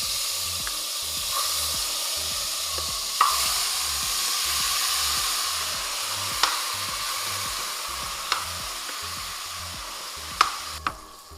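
Oxtail for a Jamaican-style dish fries in a pot with a loud, steady sizzle and hiss that runs throughout, broken by a few sharp clicks from stirring.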